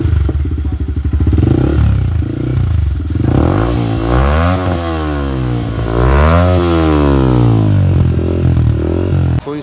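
A Yamaha MT15 motorcycle with a modified exhaust and the catalytic converter removed revs hard up and down close by, its engine note rising and falling in loud, raspy sweeps with no talking.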